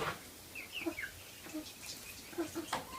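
Hens cluck and squawk in short bursts against a busy hilltop farmyard background in the Philippines, with a few higher bird calls mixed in; fairly faint and distant.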